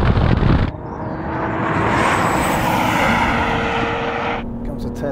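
A Porsche Macan GTS launches in a drag race against a BMW X3 M40d and a Tesla Model Y, giving a loud, sustained engine roar for about four seconds after a brief voice at the start.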